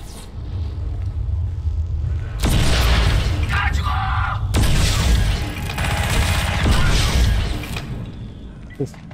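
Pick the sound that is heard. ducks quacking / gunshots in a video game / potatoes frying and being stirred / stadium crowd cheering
gunshots in a video game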